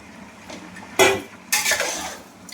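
Potatoes stirred in a metal pan for gourd curry, giving two loud scraping clinks of utensil on metal over a low background, with no talking.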